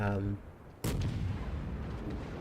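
Anti-aircraft gunfire from the cruiser Yubari in a naval video game: a sudden loud blast after a short lull, then a dense, continuous roar of rapid fire close by.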